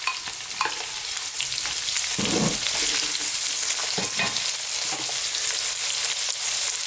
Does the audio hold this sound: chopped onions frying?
yes